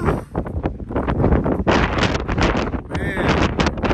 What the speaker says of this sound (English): The wind's blowing this way